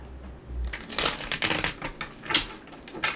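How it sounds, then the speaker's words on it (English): Tarot cards shuffled close up in a run of crisp papery riffles and rapid flicking bursts, fairly loud and continuous, with no talking. "Let's get to shuffling."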